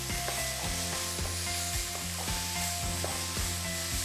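Vegetables sauté lightly in a pan as the saucy layer for a meatball sandwich. A soft, continuous sizzle runs with repeated stirring scrapes, and faint steady tones sit underneath.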